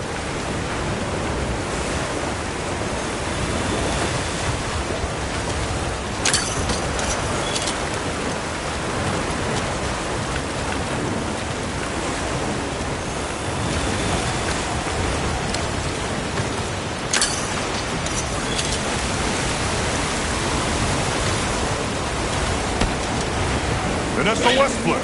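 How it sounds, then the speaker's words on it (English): Heavy downpour in a video game, a dense, steady roar of rain and wind-like noise filling the whole scene, loud and continuous throughout. "A downpour like this could have an effect on the monsters."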